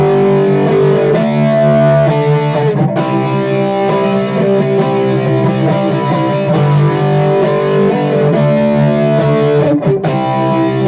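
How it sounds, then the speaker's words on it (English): A three-string cigar box guitar is played through a small Roland Cube amp with the distortion cranked, giving sustained fuzzy chords with a brief break and a quick re-strum, loud and close with no talking. "But what they do is they crank on the distortion, which I'm going to do on my little cube here."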